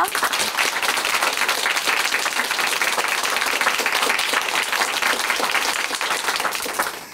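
A church show audience gives a guest a big round of applause, a dense, loud, sustained wash of many hands clapping close by, fading slightly at the end.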